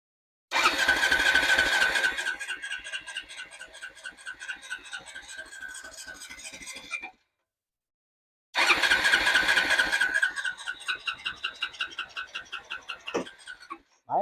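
A Honda engine on a golf cart, run after ten years and a fresh oil change, cranks and starts loudly nearby, runs roughly, cuts out for a moment, then restarts and sputters at an uneven idle.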